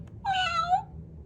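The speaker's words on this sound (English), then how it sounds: "The cat meows and purrs." A cat gives one short, clear meow at close range, rising and then falling, alone with no talk.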